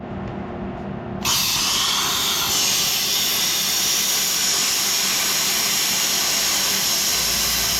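Loud, continuous power tool cutting through a welded steel tube inside a trailer being converted, starting abruptly after a second of quieter noise and running steadily at full volume with a high whine.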